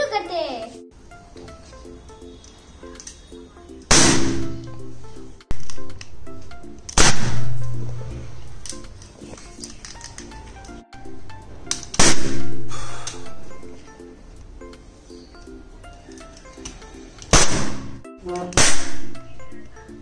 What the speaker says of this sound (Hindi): ये देखो मेरी क्रैकर गन, अभी मैं इसे बलून को पॉप करूंगा।